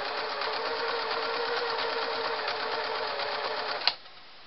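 A Singer Model 353 Genie sewing machine stitching a blind hem, running with a steady, close whirring hum and fast rhythmic needle ticking that stops with a sharp click near the end.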